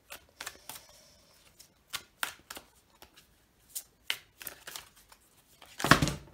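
Tarot cards are drawn from a deck in a series of short, crisp paper snaps and slides, spaced irregularly, ending with a louder riffle. Quiet and close, with no voices.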